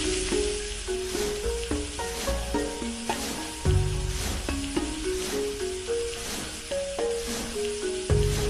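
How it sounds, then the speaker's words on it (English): Dumplings sizzle and fry in a pan within the Panda Chef kids cooking game, a steady crackling hiss running under bright, bouncy game music with little chime-like tones throughout. "put those dumplings in the frying pan."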